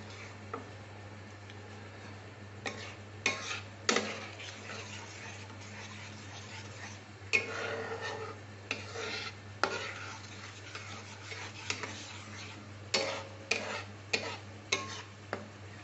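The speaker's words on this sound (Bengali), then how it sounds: "এবার এই মশলার সাথে কষে নিচ্ছি আর একটু।" Yogurt and masala cooking in a pan give a soft, quiet sizzle broken by irregular scraping and tapping of a spatula against the pan, close, over a low steady hum.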